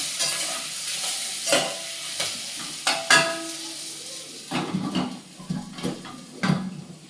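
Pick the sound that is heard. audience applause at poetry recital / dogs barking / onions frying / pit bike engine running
onions frying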